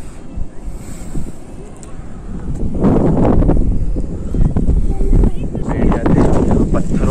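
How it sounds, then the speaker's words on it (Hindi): Strong wind buffets the microphone beside a fast river in Tonk where water rushes hard over rocks, a loud roaring wash that swells midway and stays heavy to the end, with no clear talk. "टोटल हवा की आवाज आ रही होगी आपको"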